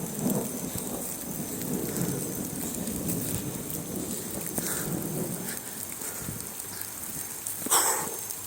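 Heavy rain pours steadily on surfaces during a thunderstorm, with low thunder rumbling and an occasional sharper crack, a continuous wash of rainfall throughout.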